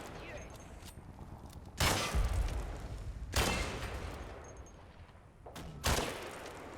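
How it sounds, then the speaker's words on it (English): Hand grenade blasts in the Combat Mission: Battle for Normandy war game, three loud broadband booms spaced a couple of seconds apart with a rumbling tail, over quieter battlefield ambience. "Is that another hand grenade from the Tommies?"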